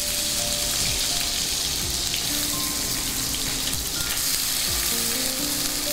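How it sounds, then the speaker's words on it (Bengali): Ground onion paste frying in a pan for a katla fish rezala, a loud, dense, continuous sizzle close up that holds steady throughout, with no speech. "এরপর পেঁয়াজটাকে, বাটা পেঁয়াজটাকে একটু ভেজে নেবেন।"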